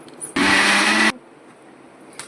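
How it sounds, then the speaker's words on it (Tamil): A kitchen mixer grinder grinding wheat batter whirs loudly at full speed for under a second, then cuts off abruptly, leaving quiet room tone. "இதை இப்போ மிக்ஸி ஜாரில் போட்டு அரைக்கலாம்."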